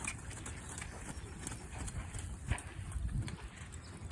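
Sparkle, a Morgan Valley Farm horse at summer camp, trotting back to the barn, with a soft rhythmic clip-clop of hooves on the ground at moderate distance over outdoor background noise.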